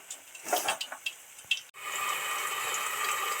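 Bhola fish frying in oil, a few sharp clicks and spatters up front, then after a brief cut a steady close hiss of oil sizzling to the end.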